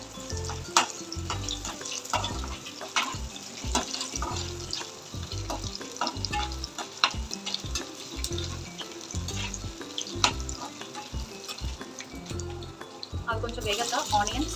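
Mustard seeds, chana dal, dried red chillies and garlic frying in hot oil, a steady crackling sizzle with sharp pops running throughout, close and fairly loud, with occasional stirring and a voice speaking over it.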